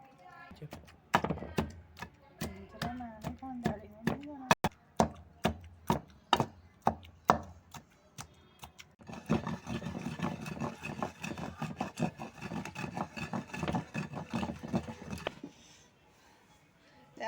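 Half-ripe, half-raw mango and finely crushed tomatoes are pounded for chutney in a mortar, heard as a run of close, heavy rhythmic thuds about twice a second, then a long stretch of dense rough grinding before it falls quiet.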